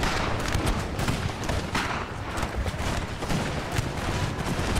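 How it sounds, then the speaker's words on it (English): Artillery and musket fire in Napoleon: Total War, a dense continuous battle roar of overlapping booms and crackling volleys with no pauses, loud and steady throughout. "What I need to do is just keep pummeling them with the artillery."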